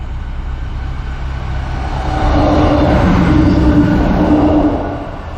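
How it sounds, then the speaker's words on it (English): A train rumbles across a bridge overhead while a narrowboat passes underneath, giving a low, steady roar that swells louder and nearer midway, then begins to fade, with no voices. "Ever wondered what a train sounds like when you're going underneath a bridge?"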